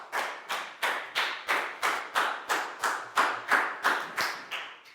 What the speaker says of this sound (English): Big round of applause for Chu,